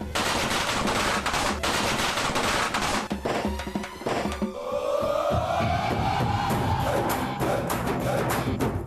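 Dense, rapid crackling bursts of firecrackers going off continuously and loudly, with a rising whistle-like tone streaking through the second half.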